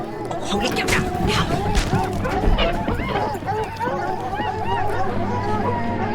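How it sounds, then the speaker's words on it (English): A pack of dogs barks and yelps in a busy overlapping chorus, a hunting-scene sound effect from an audio drama, loud and continuous with babbling voices mixed in. "We got some dogs."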